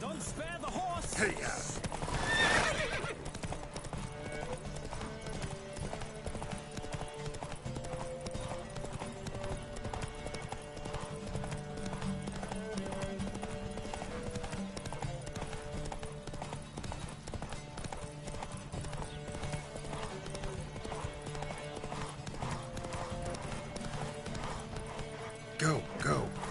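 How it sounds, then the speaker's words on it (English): Horses gallop in a race in The Witcher 3 video game, with steady rapid clip-clop hoofbeats throughout, a brief whinny near the start, and voices speaking over the hooves. "Don't spare the horse!"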